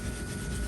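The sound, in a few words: scrubbing burned grease off a part with steel wool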